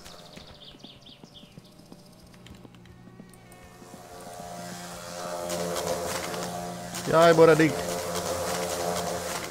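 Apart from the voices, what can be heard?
wasps buzzing in video game My Summer Car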